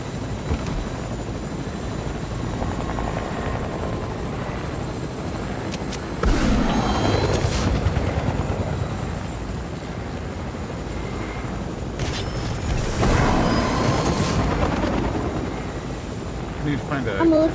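Helicopter chopper in a video game, a rushing rotor and wind roar under continuous game noise, swelling into two louder passes.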